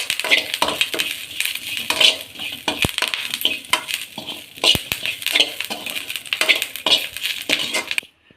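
Curry leaves dry-roasted in a pan until the moisture is gone and they turn crisp: steady crackling and scraping of stirring against metal, with sharp clinks and taps scattered through, close and fairly loud, ending abruptly.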